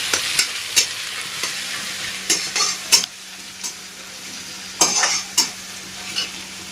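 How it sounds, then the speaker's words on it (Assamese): Ginger garlic paste frying in a pan, a soft steady sizzle broken by repeated sharp scrapes and taps of a spoon stirring, close up, with no talking. "আদা নহৰু গোন্ধটো যোৱালৈকে এনেকৈ ভাজি দিছোঁ"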